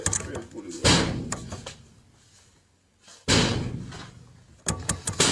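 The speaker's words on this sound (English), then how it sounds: "Pull the door, officer." A door is pulled and slammed twice, each a loud, sharp bang with a short fading rattle, the two hits a few seconds apart and close by.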